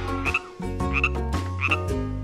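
A cartoon frog in a children's counting game gives three loud, close croaks in a steady rhythm, with bright musical tones under each call and no speech.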